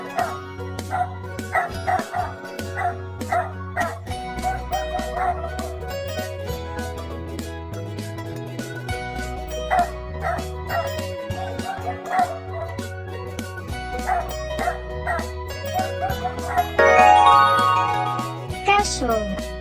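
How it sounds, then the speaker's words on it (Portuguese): Dog barks and yips sound in short repeated bursts across a looping musical backing track, with a voice naming animals in between. "Cachorro."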